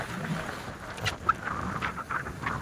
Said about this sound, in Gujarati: આપણો અવાજ નહીં આવતો હોય કારણ કે પવન બહુ છે